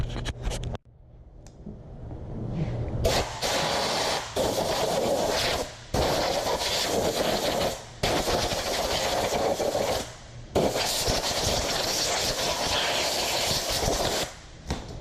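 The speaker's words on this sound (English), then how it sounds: "I'm going to blow it all out now with some compressed air." Compressed air gun blasting out Nissan SR20DET engine parts during an oil pump replacement, loud sustained hissing bursts in about six long blasts separated by brief pauses, close and harsh with no speech.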